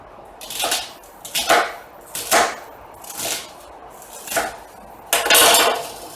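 Chopped leafy greens with their roots go into a stew pot as a series of about six separate clattering, rustling thuds, each crisp and close, spaced a second or so apart.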